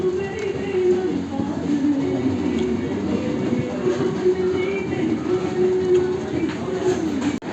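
A steady low rumble and hum fills a busy platform at Colombo Fort railway station, with a train idling or moving and faint birdsong above it.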